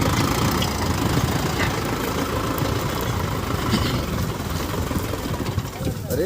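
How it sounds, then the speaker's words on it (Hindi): A Sonalika DI 55 RX Sikander series tractor with a 4087 cc engine, in low third gear at about 1200 RPM, drags a 3-bottom reversible plough, giving a loud, steady engine drone without a break. "Sonalika DI 55 RX Sikandar series का ट्रैक्टर है। 4087 सीसी इंजन वाला और ये लो हाई गियर बॉक्स वाला मॉडल है।"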